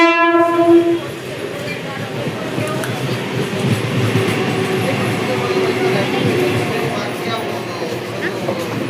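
A Mumbai local train toward Virar blasts its horn for about a second, then rumbles and clatters past loudly for several seconds, with people talking faintly on the platform.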